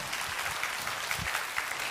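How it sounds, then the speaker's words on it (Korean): Warm, sustained applause from a church congregation at a Sunday worship service, many hands clapping in a dense, steady wash that fills the room for the whole moment. "자, 이분들에게 여러분 뜨거운 박수 부탁합니다."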